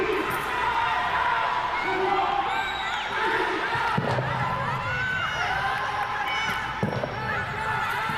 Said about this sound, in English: You can certainly hear the Brazilian crowd going crazy in the audience.